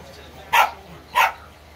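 A dog barks twice, about half a second apart, loud and close, with no talking over it.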